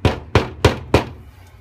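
Shelf bracket tapped into place with a rubber hammer or shoe, four evenly spaced dull thuds in quick succession, close and fairly loud, each with a short decay.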